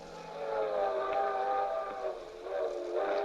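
A circus train runs in a radio drama sound effect, a steady rumbling rail noise with a sustained whistle-like tone held throughout, moderately loud and alone without talk.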